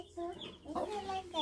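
A hen clucks in short, close, throaty bursts, a few rising and falling calls in quick succession.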